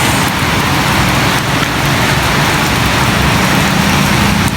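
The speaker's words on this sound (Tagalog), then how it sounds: "lagi na lang umuulan ang lakas" Heavy rain pours down steadily in a dense, loud wash, with a faint low rumble of passing traffic underneath.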